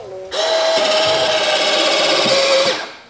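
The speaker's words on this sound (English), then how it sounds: "So let's retract the gear one more time and see what happens." The electric retractable landing gear of a Skymaster PC-21 model turboprop retracts in one loud, steady whirring motor run of about two seconds, starting and stopping abruptly, heard close up with no talking.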